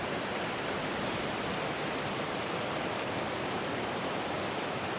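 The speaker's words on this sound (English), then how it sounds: "We've got the main cascade sort of coming in, flowing in through the down to the center of the frame and into the bottom." Water tumbling over small cascades in a woodland river, a steady, dense broadband rush that stays constant and close throughout, with no voices.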